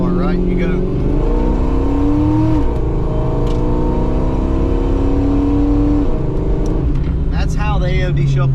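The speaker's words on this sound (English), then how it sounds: "we're going to the floor here on the car" A Carbon Fox car with an AOD automatic transmission accelerates at full throttle, its engine note rising loudly through repeated upshifts from inside the car, with voices speaking over it.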